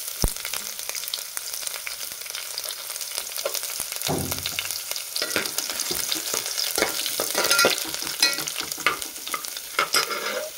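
Garlic sizzles in a pan of oil for Maharashtrian masala rice, a steady close crackle broken by frequent scraping and clinking as a spoon stirs it.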